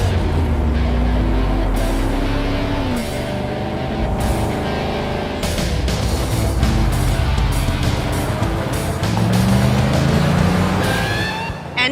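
A 2022 Chevrolet Silverado ZR2 off-road truck's engine drives loudly and up close, rising and falling in pitch with acceleration, joined by tire noise and occasional squeals.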